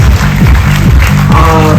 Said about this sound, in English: Everyone please give Austin a round of applause.